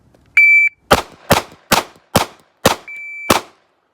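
Pistol fired at a shooting range during a grip drill: a shot-timer beep, then five sharp, close gunshots in a quick even rhythm about half a second apart, with a second beep before the last shot.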